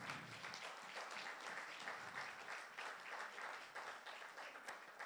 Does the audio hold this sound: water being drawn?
no